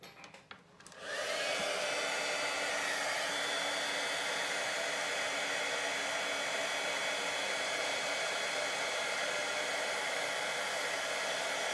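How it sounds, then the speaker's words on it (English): An embossing heat tool blows a steady, loud whooshing roar while heating copper embossing powder from underneath, starting after a brief click and running continuously without talk. "I find my copper embossing powder works better if I heat it from underneath"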